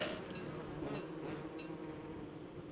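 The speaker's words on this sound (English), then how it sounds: "Those bees are just too much." Bees in the video game Don't Starve Together buzz in a steady, continuous drone, loud and close, with faint rising tones over it and no speech.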